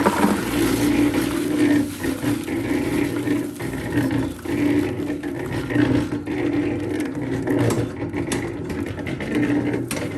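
Drill mixer churning a batch for a guest bath shower project, a continuous loud motor whir with gritty scraping of the mix, steady for the whole stretch.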